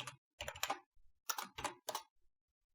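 Keys tapped on a computer keyboard while entering C code, arriving in three short bursts of quick, clustered clicks with brief pauses between them, close and fairly quiet.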